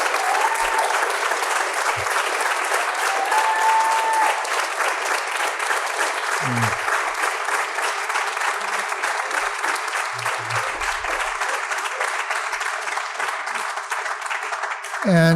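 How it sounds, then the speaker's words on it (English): Loud, continuous audience applause at a live storytelling event, with many hands clapping steadily for new storytellers; dense and close, sustained for the full stretch with a few faint voices and thumps underneath. "A special round of applause for those 4 who did it for the first time"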